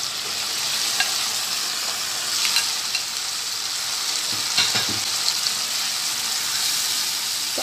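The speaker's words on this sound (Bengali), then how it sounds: "তো আলুটা দিয়ে আলুর সাথে আরও তিন চার মিনিট আমি খুব ভালো করে কষিয়ে নিব।" Potatoes sizzle and fry in a pan with onion and tomato, a steady bright hiss with occasional stirring scrapes and crackles, close and continuous without talk.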